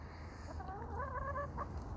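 Backyard chickens give a short, faint run of soft clucks and a rising warble over low background rumble.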